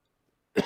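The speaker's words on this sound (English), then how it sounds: "I just keep coughing now." A single sharp cough from a livestream host, arriving abruptly after near silence, close and moderately loud.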